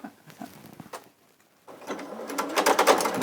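Small domestic sewing machine at a crafting session, first a few short quiet stitch bursts with a pause, then a louder continuous stitching whir with clattering needle pulses to the end.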